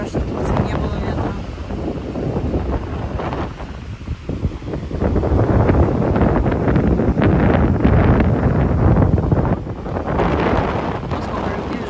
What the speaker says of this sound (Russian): Правда, я думаю, что здесь ветер сильный.